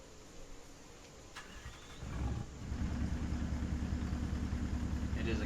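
A Caterpillar-engined truck with 810 horsepower in American Truck Simulator cranks over and catches at a scrapyard, then settles into a steady rumbling idle that stays loud and continuous.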